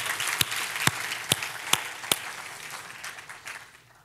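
Applause from a church congregation at a French-speaking worship service, a few sharp individual claps standing out over a steady patter of hands that slowly thins toward the end.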